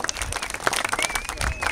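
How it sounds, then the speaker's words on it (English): Audience at an outdoor National Trails Day event applauding, a short burst of crowd clapping with a few faint voices and a thin whistle-like tone over it. "Another round of applause for"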